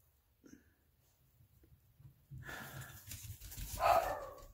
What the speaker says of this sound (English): Oh, and there go the dogs.